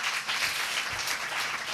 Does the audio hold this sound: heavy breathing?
no